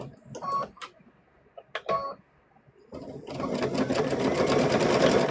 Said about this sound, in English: So we're going to sew right here.